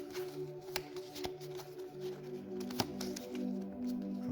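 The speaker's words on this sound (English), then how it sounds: "do a quick shuffle" Playing cards are shuffled quickly for the solo tabletop board game Dungeon Crusade, giving close, crisp riffling and snapping clicks in short bursts with no voices.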